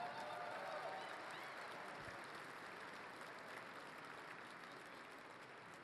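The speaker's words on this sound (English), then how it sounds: "Let's give Tom and his team a big round of applause." Applause fills a political fundraising dinner of the National Republican Congressional Committee, a dense, sustained clapping from a large audience that carries on evenly and fades slightly toward the end.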